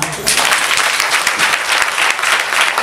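A large church congregation at a Sunday service claps together in a loud, dense burst of applause that carries steadily through the whole stretch without a pause.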